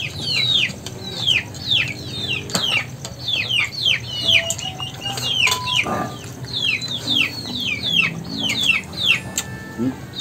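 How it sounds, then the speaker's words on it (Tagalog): A flock of chicks keeps up a dense, noisy chorus of high descending peeps, close and continuous, with occasional clucks from grown fowl and some background activity. "Naingay yung mga sisiyo ko"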